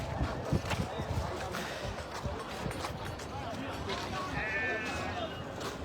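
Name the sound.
goats bleating at a livestock market in Saudi Arabia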